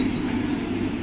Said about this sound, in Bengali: এই যে 20842 বিশাখাপত্তনম বন্দে ভারত ঢুকছে হচ্ছে স্টেশনে